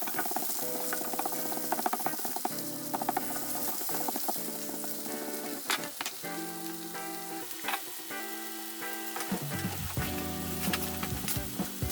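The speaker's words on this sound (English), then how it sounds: "we put the potatoes in so they can cook away" Potatoes fry in a pan with chorizo and onions, giving a soft continuous sizzle under loud ratcheting, tonal mechanical whirring and clicks that start and stop repeatedly, with no speech.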